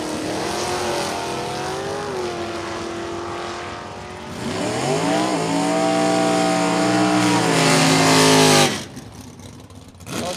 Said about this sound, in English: 68 Dodge Dart. Doing the chase here, and Toes 2-barrel Camaro